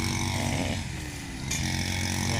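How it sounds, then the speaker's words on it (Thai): A gasoline grass trimmer engine runs steadily at close range at an elephant camp in Rayong, Thailand, a loud buzzing drone that dips briefly in the middle before revving back up. "เติมน้ำมันนะ เครื่องน้ำมัน เครื่องตัดหญ้านะครับเรียบร้อย"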